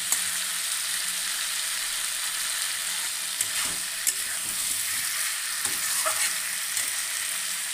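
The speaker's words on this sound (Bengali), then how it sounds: "এবার আমি চিংড়ি মাছটা দিয়ে দেবো। আমার জল গরম করা আছে, এখানে কিছু জল দিয়ে দেবো।" Prawns and hot water added to a hot pan for prawn and potato dum, giving a continuous close sizzling hiss with a few sharp clinks and scrapes of a spoon, no talking.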